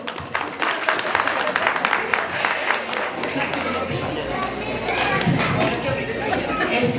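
Wedding guests at a reception in Jauja applaud together, a dense, steady patter of many hands lasting throughout, with crowd chatter and voices mixed in underneath.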